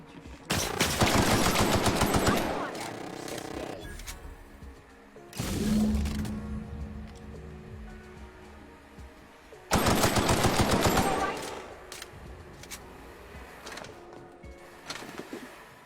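Automatic gunfire in the video game The Outer Worlds comes in three loud, rapid bursts separated by quieter stretches of ambient game sound.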